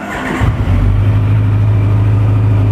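A 2017 Honda CB1100EX motorcycle on its stock exhaust starts up and settles into a steady, loud, low idle, close by with a smooth, even engine rumble and no voices.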